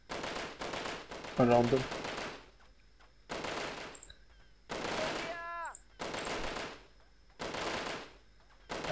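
Bullets ricochet with short, whining, falling tones amid repeated bursts of automatic gunfire in the Delta Force video game's Indonesia mission, with a voice speaking briefly between the loud, clattering volleys.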